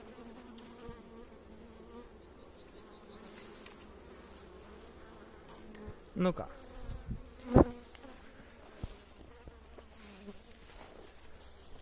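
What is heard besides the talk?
bees buzzing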